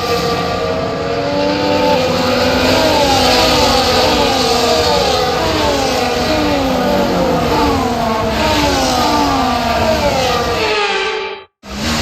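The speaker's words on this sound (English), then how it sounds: "Formation lap gets underway and every driver will be looking to settle in for the race ahead" F1 cars on a formation lap in the racing game F1 24, loud layered engine whines rising and falling as several cars rev and pass close, cutting out abruptly near the end.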